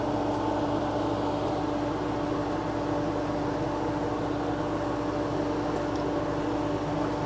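A small air conditioner in a Runaway camper runs on a Jackery 2000 Pro power station, giving a steady even hum and whoosh of moving air with no change and no talk.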